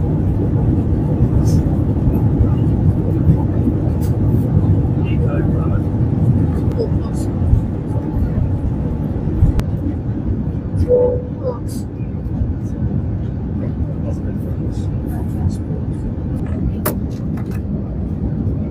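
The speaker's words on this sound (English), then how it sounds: "the pilot gets ready for takeoff" Inside the cabin of an airliner at Doha International Airport, a steady loud engine rumble runs throughout with faint clicks and cabin noises, as the plane readies for takeoff.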